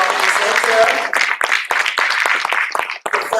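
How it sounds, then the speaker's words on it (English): An audience at a university event applauds a presenter with brisk, close clapping in a lively burst, partly under a speaker's amplified voice that carries through the first part. "Let's give a big round of applause"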